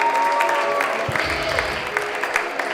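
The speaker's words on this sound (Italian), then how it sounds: "adesso continuiamo l'applauso per la wild card della serata" Audience applause at a comedy show, a steady, dense wash of clapping sustained throughout with a few low thumps partway through and faint voices mixed in.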